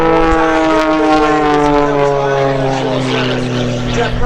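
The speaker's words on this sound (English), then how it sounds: "John Klatt coming in one more time" A propeller aerobatic airplane flying by at an airshow in Quonset, Rhode Island, a loud sustained engine drone with steady harmonic tones that slowly shift in pitch as it passes, with faint crowd or announcer sound beneath.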